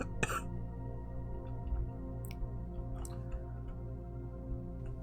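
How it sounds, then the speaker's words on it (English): Coughing from a livestreaming gamer, an early sharp burst followed by a few weaker throaty catches over a steady background hum, fairly close to the mic. "I am sorry about the constant coughing."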